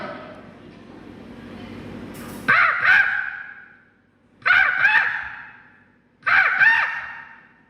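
A person mimics an angry crow at a mimicry competition, giving three loud, harsh caws one after another with short pauses between them, after a stretch of quieter crowd noise.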